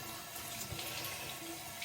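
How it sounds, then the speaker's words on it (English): Lukewarm water running steadily from a tap into a sink while a face mask is washed off, a soft continuous splashing hiss heard close and alone. "So I like to wash off my face mask with warm water."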